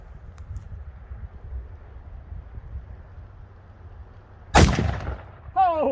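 Mosin Nagant rifle fired outdoors at a pumpkin: after quiet wind rumble, a single sharp, loud shot cracks out and rings briefly, followed by an excited voice.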